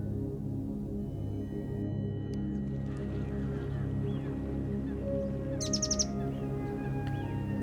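Wild birds around Delhi call with scattered chirps and a few brighter tweets over a steady low outdoor hum, mostly faint and somewhat distant.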